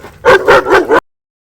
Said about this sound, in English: I'm surprised he's barking and lunging at people